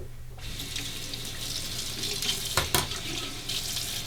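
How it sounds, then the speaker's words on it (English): A bathroom tap runs cold water in a steady close-up splash into a sink, with a couple of brief clatters partway through. "Now a final rinse with some cold water."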